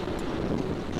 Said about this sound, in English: Just a bit windier.